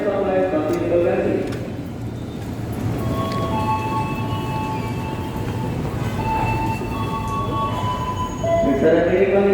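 A commuter train pulls in on track 2 at Klender station, its heavy rumbling wheels rolling steadily nearby with faint squealing tones, while an announcement voice talks over it.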